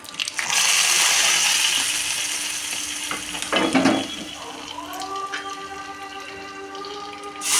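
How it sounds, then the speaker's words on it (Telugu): Hot tempering (talimpu) tipped into a pot of charu, a loud sizzling rush that hisses strongly and then fades into softer bubbling and stirring. "ఇప్పుడు ఈ తాలింపు ఇందులో వేసుకుంటాం అన్నమాట"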